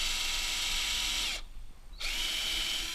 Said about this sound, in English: Now using the 3mm drill bit, flush both ends of the front.